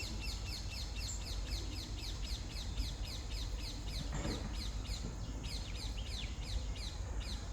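Several birds call and chirp repeatedly after bathing in a pond in the evening, a steady chorus of bright, busy tweets close by with some cawing mixed in, and a brief louder burst partway through.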